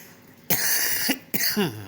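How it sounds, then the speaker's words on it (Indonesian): Two harsh, close coughs in quick succession following a short quiet lead-in, loud and raspy, with no talking. "Maaf, Bapak batuk, ya, lagi pilek."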